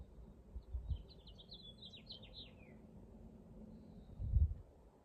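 A faint, quick run of high chirping bird notes over a low outdoor rumble and occasional wind thumps.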